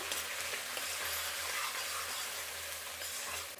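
A pan frying the base for Karnataka-style khara bath, a continuous dense sizzle close by, steady and loud throughout with light stirring mixed in.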